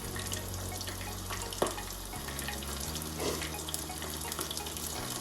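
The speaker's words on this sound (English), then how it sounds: "you can hear it's just got a nice gentle simmer with the fish." Breadcrumbed plaice fillets fry gently in a pan with a little butter, giving a soft, steady sizzle that stays faint and even throughout, with a few light clinks of kitchen handling nearby.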